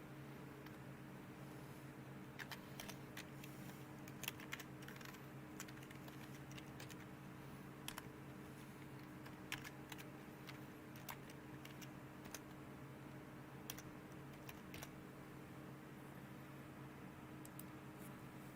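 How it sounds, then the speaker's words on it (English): Typing on a computer keyboard at a desk: scattered, light key clicks in an irregular rhythm over a steady background hum, fairly close but quiet. "Here, I'll type it in there."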